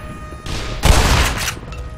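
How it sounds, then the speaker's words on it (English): Shotgun blasts in the video game Black Mesa, two loud close booming shots in quick succession with a ragged crackling tail between them. "Shotgun!"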